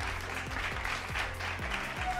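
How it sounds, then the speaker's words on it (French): An audience applauds loudly and steadily for Mylène Sirois at an awards gathering, continuous dense clapping sustained throughout. "j'aimerais qu'on l'applaudisse très fort"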